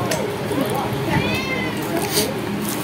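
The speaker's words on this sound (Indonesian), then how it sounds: "ada kucing jantan datang ni." A male cat meows at night outdoors, giving a brief wavering cry in the middle, mixed with people talking and a steady background din.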